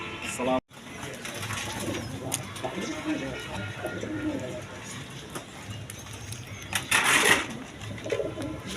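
Jacobin pigeons in a Dhaka pigeon dealer's loft coo softly under a steady bed of background noise and rustling, with a brief dropout near the start and a brighter burst of noise later.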